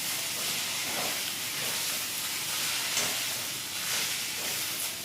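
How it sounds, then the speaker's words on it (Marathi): Noodles frying in a pan at home, giving a steady, loud, broadband sizzle and hiss that runs unbroken throughout, with no talking. "इकडं नूडल्स फ्राय करत आहे मी."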